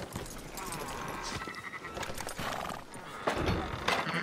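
Sheep bleating at moderate distance in the video game Red Dead Redemption 2, several short calls over hooves and shuffling, with a voice speaking briefly amid the noise.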